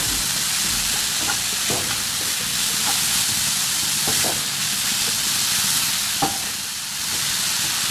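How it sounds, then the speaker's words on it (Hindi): Momo filling stirred in a pan after soy sauce is added, paneer momo preparation: a steady frying sizzle and hiss with occasional soft scraping clicks of the spoon, continuous and close, without talk. "सोया सॉस डालेंगे और उसको भी अच्छी तरह से मिला लेंगे"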